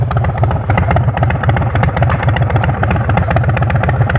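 A warmed-up 2026 Harley-Davidson Street Bob 117 motorcycle idles loud and close, its engine thumping in a steady, even pulse throughout with a faint mechanical clatter on top.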